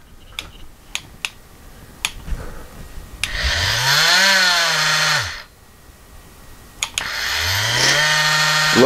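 Ryobi P343 cordless battery-powered oscillating multi-tool: a few sharp clicks, then two runs of a few seconds each as the buzzing whine ramps up in pitch, holds and winds down, heard up close.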